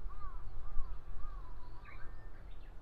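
Birds call on a cool mountainside, a few thin, sliding whistles and chirps rising over a low outdoor rumble at moderate distance.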